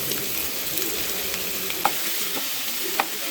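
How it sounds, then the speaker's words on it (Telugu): Onions sizzling and frying in hot oil with cumin in a pan, a steady broadband crackle with a few sharp stirring clicks, close and fairly loud throughout. "అదే ప్యాన్లో ఆనియన్స్ వేసుకోవాలి."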